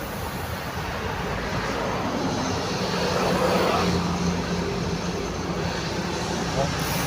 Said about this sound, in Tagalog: Malaking Philippine Airlines yung lilipad.